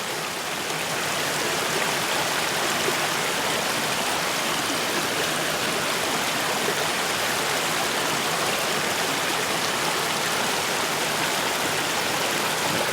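A stream flows around both sides of a small island, making a loud, steady, unbroken rush of water with no voices.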